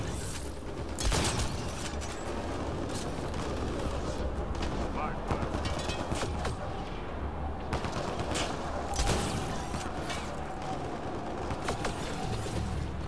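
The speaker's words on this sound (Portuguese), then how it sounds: "Nossa, tomei um tiro nas costas" Sporadic gunshots and bursts of fire from the video game Mass Effect: Andromeda crack over a continuous background of game sound, with someone talking over parts of it.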